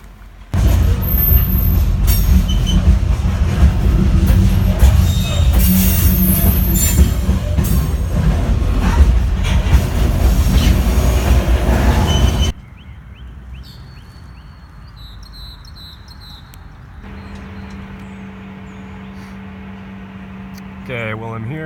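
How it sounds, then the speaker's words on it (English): Amtrak northbound train pulling into Greenville, South Carolina station around 3 a.m.: a loud, close rumble with grinding wheel squeal for about twelve seconds, then a cut to a much quieter scene with a steady low hum. "A northbound just pulled up."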